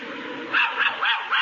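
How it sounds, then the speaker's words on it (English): An Airedale dog barks in a rapid series of four sharp barks over a steady background noise, close and loud. "Be careful of that dog, Costello. It's an Airedale"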